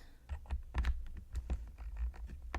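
A mechanical computer keyboard clicks under irregular typing, sharp close key presses with a few louder strokes in quick uneven bursts, no speech.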